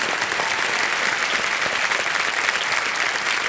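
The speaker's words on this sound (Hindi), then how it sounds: "जोरदार तालियां बज जाएं इनके लिए।" Studio audience on the KBC game show claps loudly and continuously, a dense, even burst of applause with no talk over it.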